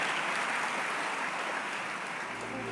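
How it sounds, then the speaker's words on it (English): An audience at a university convocation ceremony claps steadily, a dense even wash of applause that holds at the same level throughout with no voices on top. "Another round of applause for the luminary who received his honorary doctorate this evening"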